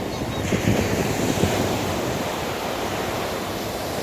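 Sea waves wash onto the shore in a steady broad roar with wind noise on the microphone, loud and near, with no clear talk.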